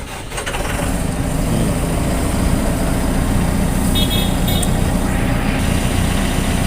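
Volvo SD110C soil compactor roller diesel engine cranking briefly, catching, then settling into a loud steady rumbling idle, close by, with no talk.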